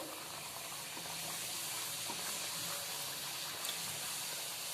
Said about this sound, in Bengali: এইভাবে আমি আরো কয়েকটা ভেজে নিচ্ছি।